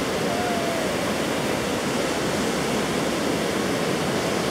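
Ocean surf at Cocoa Beach, Florida, a loud, dense, unbroken wash of breaking waves that fills the whole stretch with no pauses or voices.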